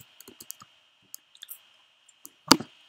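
Typing a command on a computer keyboard: sparse, separate key clicks spread across the moment, ending in one louder, firmer press like an Enter key, with no talking.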